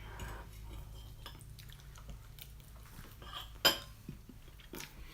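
A cauliflower pizza crust mixture with Parmesan and salt is stirred in a bowl, soft squishing with light clinks of a utensil against the dish and one sharper knock, close and fairly quiet, no talking.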